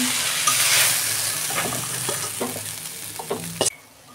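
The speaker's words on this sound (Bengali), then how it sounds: "শাকটা আমি ঢালছি এখন।" Leafy note shaak greens sizzle loudly in a hot wok for a homestyle chorchori, a dense close hiss with spoon clatter and stirring knocks that cuts off abruptly near the end, without speech.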